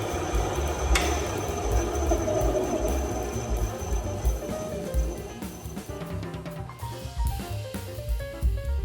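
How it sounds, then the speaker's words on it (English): A belt sander smooths a trimmed piece of wood for a handmade doll house, giving a steady, loud, rough grinding whir that runs without pause and wavers slightly in pitch. "I used my belt sander to smooth the surface"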